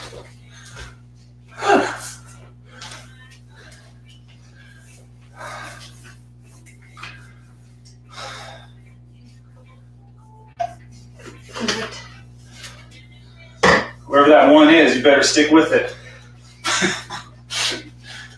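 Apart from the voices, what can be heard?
sneezing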